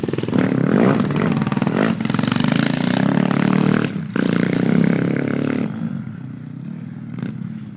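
A 160cc pit bike ridden in snow, its small engine buzzing loudly and close, revving hard with brief dips in throttle and a steady raspy drone throughout, no speech.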